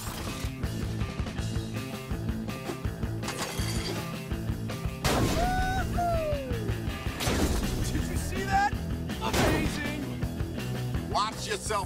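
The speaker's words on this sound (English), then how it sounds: "Been hearing a lot of gunfire coming from up in that treehouse." Gunfire rings out near a treehouse in the Sunset Overdrive video game, heard as dense, loud, overlapping mechanical clanks and crashes under a continuous bed of game music and effects, with rising whistling tones midway.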